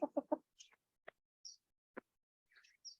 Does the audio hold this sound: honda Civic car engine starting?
no